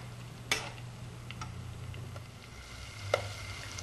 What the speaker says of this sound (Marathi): ते थोडा वेळ 2 मिनिटं अजून परतून घेऊया।